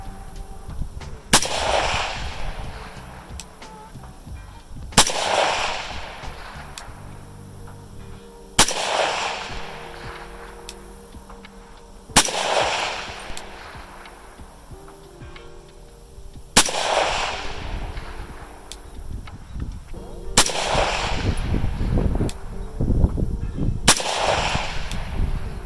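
Scoped rifle fired on a range with a 1-8 power optic, several loud, sharp shots spaced a few seconds apart, each with a ringing decay and echo, close to the microphone with no talking.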